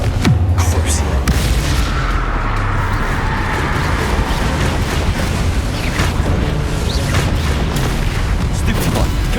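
Repeated booming Confringo spell blasts from Hogwarts Legacy, loud and continuous with crackling impacts layered over dense low rumble throughout.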